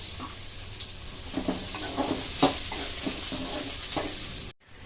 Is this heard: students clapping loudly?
no